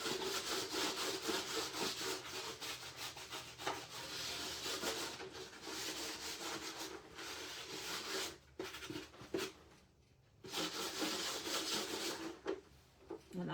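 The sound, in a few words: sanding a milk-painted wall pocket by hand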